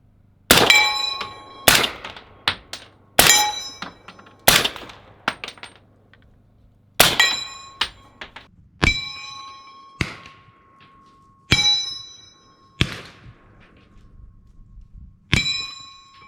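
Suppressed AR-15 firing 5.56 subsonic rounds outdoors, about ten sharp cracks spaced a second or two apart, each with a ringing metallic ping and a short decaying echo, loud and close.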